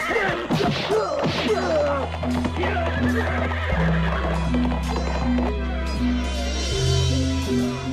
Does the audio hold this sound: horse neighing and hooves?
yes